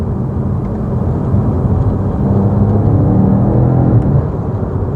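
A BMW M5 Competition F90 engine gives a loud, continuous low rumble that holds steady and swells slightly midway, with no talking.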